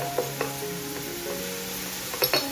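Food sautéing in a home kitchen pan for a Ganesh Chaturthi meal, a steady close sizzle with a few sharp utensil scrapes and clinks, no voices.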